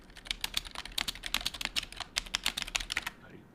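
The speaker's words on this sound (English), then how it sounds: "Stream just got to hear me tickety tap the fuck out of my keyboard there" Rapid tapping on a computer keyboard, a quick irregular run of crisp clicks close to the microphone, with no talking.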